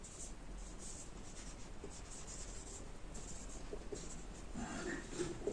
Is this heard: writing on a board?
yes